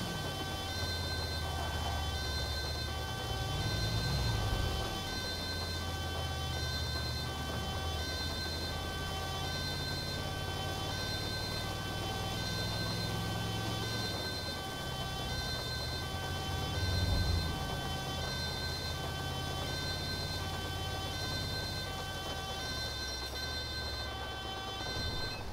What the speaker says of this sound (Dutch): Ik zet de sirene uit, maar ging maar aan.